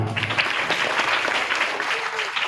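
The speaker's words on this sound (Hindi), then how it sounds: "इनके लिए जोरदार तालियां।" A village crowd at a Shrimad Bhagavat Katha gathering in Salehpur claps steadily for a guest, a dense, sustained patter of many hands at close range.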